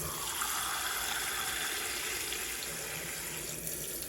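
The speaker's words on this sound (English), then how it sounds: "I'm gonna fill it with water." Water runs steadily from a tap into a measuring cup, a continuous hissing splash at moderate volume with no pauses.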